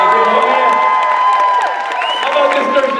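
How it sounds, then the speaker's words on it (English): Convention panel audience at VegasCon 2016 cheering, whooping and clapping, a loud close crowd with shouts rising over the noise for a few seconds, a voice faintly mixed in. "Thursday people, put your hands together."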